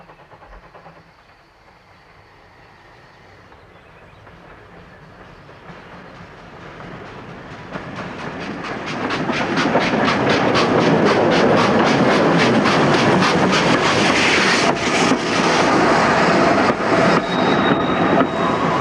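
A train pulls into a station on market day at Swindon in an early twentieth-century setting. Its wheels clatter faintly at first, then build to a loud, steady clickety-clack with a brief squeal as it comes near.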